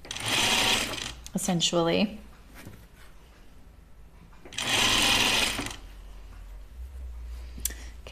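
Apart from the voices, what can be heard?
sewing machine stitching quarter inch seam on dress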